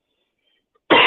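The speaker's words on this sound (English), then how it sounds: "sorry about my cough." A single sharp cough erupts abruptly near the end after near silence, close and loud.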